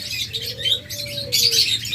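Lovebirds and budgerigars kept as breeding pairs chirp in quick, overlapping bursts, bright and close, with a soft cooing tone running beneath the chatter.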